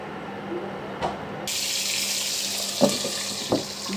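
Fish sizzling in hot oil in a pan, a steady broadband frying hiss that swells sharply after the first second and holds loud, with a few brief clicks and spatters over a faint low hum.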